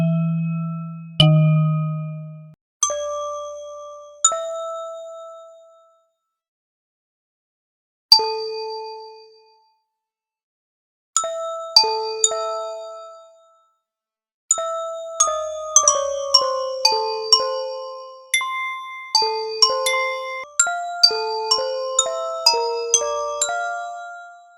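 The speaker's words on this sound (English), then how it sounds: "So I think I want some form of bell." Bright synthesized bell tones ring out one at a time, then in quicker runs of chiming notes, each decaying cleanly into silence.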